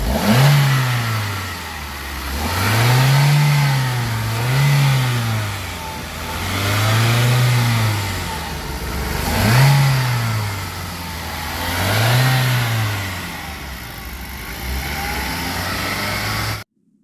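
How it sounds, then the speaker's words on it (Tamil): A nearby car engine revs repeatedly, rising and falling in several long swells over a steady idle, with no talking. "ரைஸ் பண்ணுங்க சார்"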